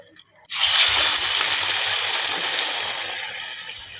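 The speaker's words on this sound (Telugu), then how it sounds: "గారెలు అనేది ఆయిల్లో వేసేసుకుందాం" Garelu, lentil fritters, hit hot oil with a sudden loud burst of sizzling that settles into a steady, bubbling fry close by. No voices accompany it.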